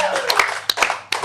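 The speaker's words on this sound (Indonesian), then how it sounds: "Tepuk tangan dulu, dugem." Hands clap a few times during a casual podcast chat, sharp isolated bursts standing out over a low background hum.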